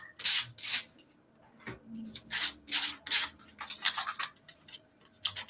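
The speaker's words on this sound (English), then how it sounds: "have the edges sanded just a little bit more" Short rubbing strokes of hand sanding work along the edges of a painted wooden piece, quiet and close, coming in an uneven rhythm of brisk scrapes with small gaps between them.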